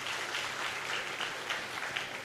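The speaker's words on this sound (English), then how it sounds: "Clap for yourselves." A gathered audience at a morning programme claps in sustained, even applause, moderately distant and with no talking over it.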